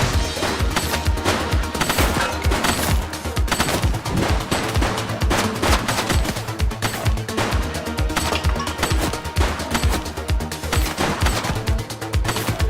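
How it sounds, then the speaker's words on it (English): Rapid automatic gunfire rattles throughout a shootout in the police video game The Precinct, with dense, sharp bursts of shots following one another in a loud, continuous fusillade and no speech over them. "Shots fired!"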